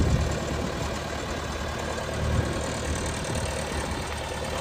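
Diesel engine of a 2002 Vermeer V5750 backhoe runs at a steady idle-like drone while the boom swings back and forth, a continuous close, fairly loud rumble with no talk.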